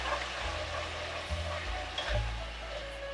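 Pork drippings sizzle and fry steadily in a pan, a continuous moderately loud crackling hiss with a few brief clinks of stirring, no voices.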